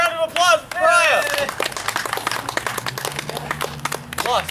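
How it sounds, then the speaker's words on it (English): Applause and cheering at a backyard wrestling show, a dense patter of claps after a few loud yelling voices at the start, with a fainter voice calling out near the end. "Cheer, round of applause for Pariah."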